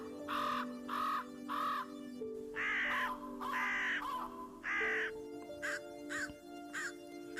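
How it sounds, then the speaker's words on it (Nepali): Crows caw from the trees around, a series of loud harsh calls in irregular bursts, several birds overlapping, heard clearly over a quiet hum. "वरपर रुखहरूमा कागहरू आफ्नो आफ्नो पारामा कराइरहेको थियो।"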